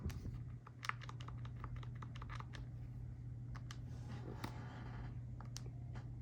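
Calculator buttons are pressed in a quick run of light clicky taps, several close together then sparser, under a steady low hum with no talk.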